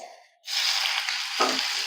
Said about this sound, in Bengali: তাড়াতাড়ি ভাজা হবে পেঁয়াজটা।